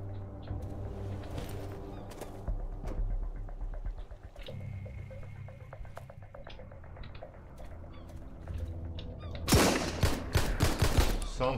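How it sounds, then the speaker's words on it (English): Heavy machine gun fire in the survival game Sunkenland, rapid dense bursts swelling loud near the end over a bed of game sounds and scattered clicks, no speech. "Some heavy machine gun"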